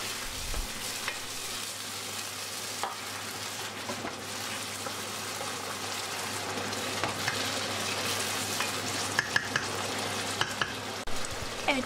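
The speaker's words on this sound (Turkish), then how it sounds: "Kısa bir süre kavurduktan sonra yaklaşık yarım su bardağı kadar su ilave ediyoruz" Minced meat filling for eggplant kebab sizzles steadily in a pan, close by, with light scraping and clicking from stirring and a few sharper pops toward the end.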